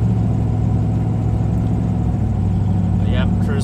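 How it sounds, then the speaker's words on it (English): A 1996 Impala SS with a swapped Gen V engine cruises at a smooth, steady 1500 RPM. Its low exhaust drone holds even throughout, with a brief higher chirp near the end. "I'm cruising at 1500 RPM. It's running nice and smooth."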